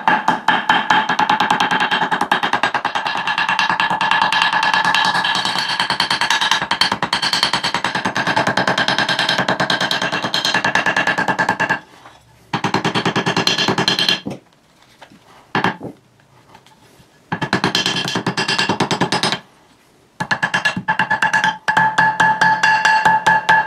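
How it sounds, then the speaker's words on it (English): A small toffee hammer taps rapidly and lightly on metal, tapping out a paper gasket in a dense, continuous patter, pausing several times before resuming, close by with no talking. "Just little gentle taps. And you're using that edge to cut through the paper with the hammer itself."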